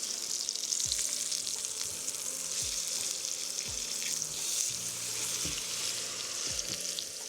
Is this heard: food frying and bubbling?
yes